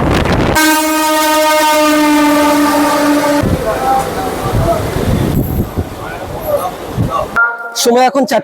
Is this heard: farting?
no